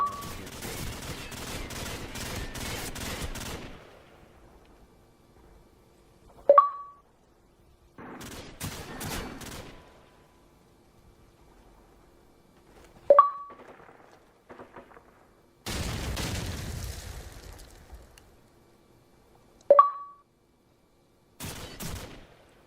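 Gunfire in the video game Call of Duty, with bursts of rapid automatic shots separated by quiet stretches and punctuated by sharp single metallic pings, fairly close and loud.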